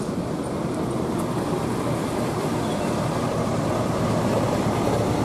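A tour bus rolling into the Monas parking area in Jakarta, giving a steady, dense low engine rumble and road noise that holds evenly throughout with no clear start or stop; no talking.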